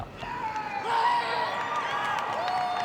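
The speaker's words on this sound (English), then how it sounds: "Crowd will need to quieten down." Stadium crowd at ASEAN Para Games athletics cheering and whooping in a continuous excited roar, with scattered claps and raised voices swelling near the middle.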